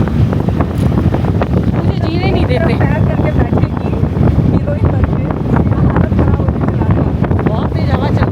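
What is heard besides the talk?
strong wind blowing at Janki Jhula, Rishikesh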